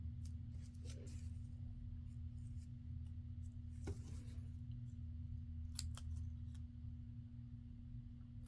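Scissors trim the end off a folded paper strip for a craft embellishment, giving a single crisp snip near the middle over a steady low background hum.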